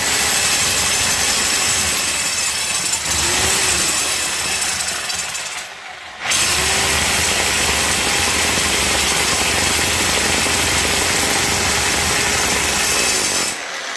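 A drill bores steadily through thick, dense material in a DIY renovation, a loud continuous grinding drone that cuts out briefly around six seconds, then resumes and runs on to the end.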